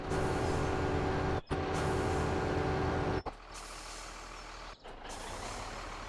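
Trucks in the Farming Simulator 17 video game, with a loud, steady engine drone and a repeating reversing beep. Sharp air-brake hisses break in at three points, after which the engine settles lower.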